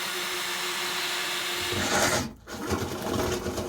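A power drill bores holes in a boat, a steady motor whine with grinding as the bit bites, briefly cutting out before spinning up again close by, with no talking.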